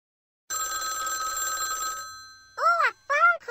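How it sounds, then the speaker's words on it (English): A telephone bell rings loudly in a children's game, one sustained metallic trill of about a second and a half before voices speak in quick, lively bursts. "Oh, a phone call."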